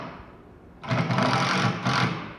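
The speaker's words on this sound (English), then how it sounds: "just sinking the screws just below the surface" A power drill drives screws into a wooden porch swing seat, whining up close in two short bursts, with a brief dip in between and quiet ambience before it starts.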